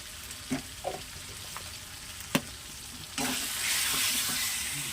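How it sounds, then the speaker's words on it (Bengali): Onion, chili, tomato and spice masala frying in a pan as chili powder goes in, a low sizzle with a few stirring knocks that swells into a louder, steady hiss toward the end, close and without voices. "প্রায় মশলাটা ভাজা ভাজা হয়েছে লঙ্কা গুঁড়ো পরিমাণ মতো দিলাম"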